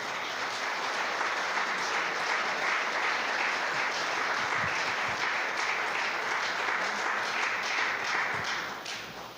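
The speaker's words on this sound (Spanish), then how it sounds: "Fuerte ese aplauso al Señor." Church congregation at a women's seminar applauding to the Lord, a loud, even roar of many clapping hands held for about nine seconds before tapering at the end, no voices over it.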